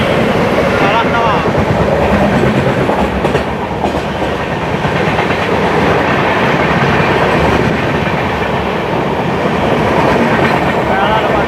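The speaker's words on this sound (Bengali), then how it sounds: "parallel overtake, Howrah Secunderabad ফালাকনামা superfast express" The Howrah–Secunderabad Falaknuma Superfast Express thunders past on a parallel track, heard from on board another train as a loud, steady rumble with a dense clickety-clack of wheels that lasts throughout.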